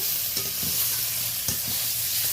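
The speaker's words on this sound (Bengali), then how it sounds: "পেঁয়াজ টমেটো কাঁচা লঙ্কা বেশ ভাজা ভাজা হয়ে গেছে" Onion, tomato and green chilli fry in oil with a steady close sizzle, and a few spatula scrapes and taps come through as the pan is stirred; no talking.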